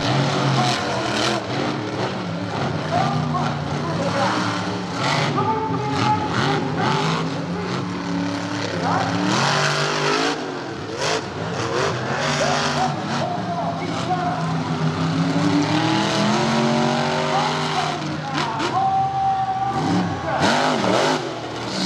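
Monster trucks race in a rallycross at Charlotte Motor Speedway, engines roaring and revving continuously with shifting pitch, loud and sustained, while an announcer's voice runs underneath.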